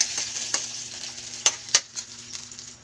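Canned mackerel sautéing in a pan with garlic and onion gives a steady close sizzle, with a few sharp scraping stir clicks and taps scattered through it and no talking.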